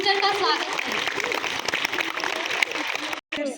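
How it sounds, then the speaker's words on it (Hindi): Applause welcoming a sister at a Class 12 school farewell, dense clapping from a large audience filling the hall, with voices mixed in, cut off briefly near the end. "जोरदार तालियों से सिस्टर का स्वागत करें।"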